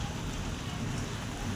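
Heavy rain pouring down steadily, a dense, even hiss of falling water with no break across the short stretch.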